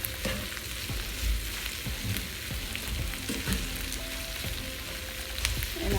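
Plenty of onions frying in a pan, a continuous close sizzle with soft crackles and occasional stirring scrapes, no voices.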